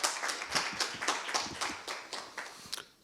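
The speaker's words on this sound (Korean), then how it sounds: "큰 박수로 환영해 주시면 감사하겠습니다." A small forum audience claps hands, distinct rhythmic claps repeating steadily for a few seconds before tapering off.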